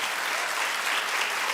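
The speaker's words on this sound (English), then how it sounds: "keep clapping" Studio audience on a daytime talk show breaks into steady, dense applause, a continuous wash of clapping held at an even level, with no talk over it.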